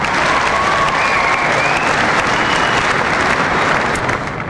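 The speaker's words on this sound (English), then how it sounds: "Please give yourselves a round of applause." A tennis tournament crowd applauds during the trophy ceremony after the 1998 Adelaide final, a loud, dense and sustained burst of many hands clapping that eases slightly at the very end.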